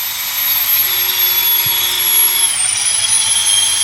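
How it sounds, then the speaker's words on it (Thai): A power drill boring bolt holes in metal work for a rear window grille or screen: a loud, steady high-pitched whine that holds level and then dips slightly in pitch near the end, with no talking. "ก็คือเจาะรูนะครับ ไว้ใส่น็อต"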